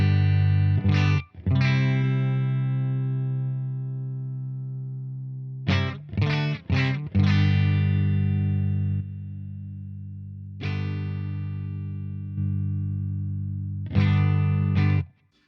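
Electric guitar played through a Boss Waza BP-1W booster pedal: sustained strummed chords with a few quick rhythmic stabs, loud and gritty with added volume and light distortion, no talking.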